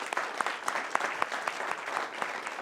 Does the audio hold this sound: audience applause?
yes